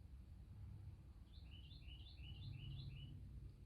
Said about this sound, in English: Bird is so loud, isn't it?